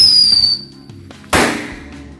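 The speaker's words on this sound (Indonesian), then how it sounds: "kita nyalakan mercon tikus Thor" A Thor mouse firecracker (mercon tikus) sets off with a whistling hiss that fades, then a single loud sharp bang that tails off, with no talking.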